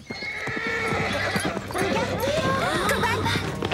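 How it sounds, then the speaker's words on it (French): Hooves clop rapidly along with a loud, nearby horse whinny, while several voices talk and call out over the commotion. "Ce n'est pas le cheval de Véronica?"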